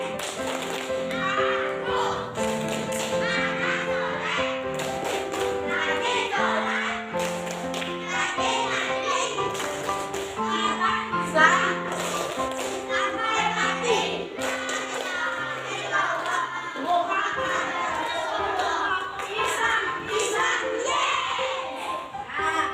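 A group of children performs a rhythmic clapping chant in a classroom, their sung voices rising and falling over patterned bursts of hand claps, with short pauses between phrases.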